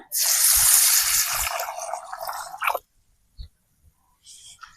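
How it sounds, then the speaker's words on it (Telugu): Water is poured into a vessel of horse gram for washing: a loud, splashy stream for about three seconds that cuts off sharply, followed by a few soft knocks and drips. "కొన్ని నీళ్ళు అయితే పోస్తా"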